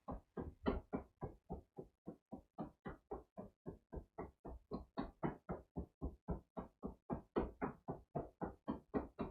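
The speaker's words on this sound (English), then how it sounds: "we're going to gently knock on the hip bone and around the groin, but not too hard." Steady rhythmic knocking as a loose fist gently taps the hip bone and groin area during a qigong exercise, roughly three soft, close thuds per second repeating evenly throughout with no talk.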